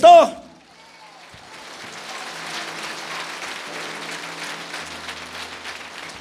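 A church congregation at a Quechua Christmas sermon breaks into applause after a brief shout, the clapping rising into a steady, moderately loud patter that carries on to the end.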